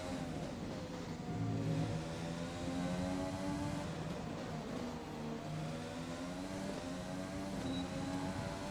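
An F1 race car engine from the F1 2020 game revs through a flying qualifying lap, its high whine rising and falling through gear changes, steady and close, with no voices.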